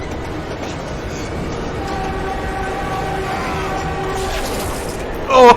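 A train thunders past in the Flashpoint Batman film, a loud, steady rolling rumble with sustained metallic squealing tones, ending in a sudden sharp burst of impact.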